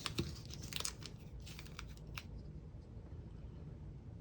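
Scissors cut through planner paper close by, a quick run of faint crisp snips and crinkles during the first two seconds, followed by near silence.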